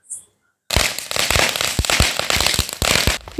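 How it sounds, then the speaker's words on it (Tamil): A Shinchan handheld spinning firecracker for Diwali bursts into a loud, dense crackle after a brief quiet pause, sizzling continuously with rapid sharp pops close by. "இதுதான் அந்த சின்சான் பட்டாசு."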